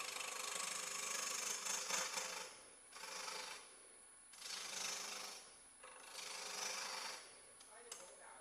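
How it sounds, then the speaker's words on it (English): A bowl gouge cuts wood on a lathe while turning cabriole legs, producing close, rasping scraping in repeated swells of roughly a second each, separated by quieter gaps as the tool meets and leaves the spinning workpiece. "I like to use my bowl gouge if I'm turning a lot of air"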